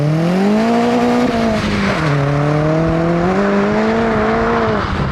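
A 330 bhp Clubsport-spec VW Polo GTI drives hard with its engine loud and close, pitch rising and falling through steady revs and a shift, and no voices over it.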